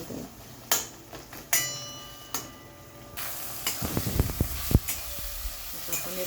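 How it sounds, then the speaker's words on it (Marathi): Prawns are stir-fried in a pan, giving a steady sizzle with sharp utensil clicks and scrapes that grow busier toward the end as the pieces are tossed. "कोळंबी पण छान अशी परतून घेतलेली आहे."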